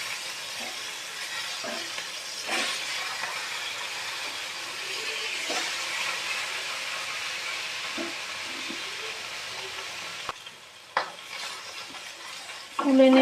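Fish fries in oil in a wok with a constant, close sizzle and scattered soft clinks of a spatula. Near the end the sizzle briefly drops and is followed by louder knocks.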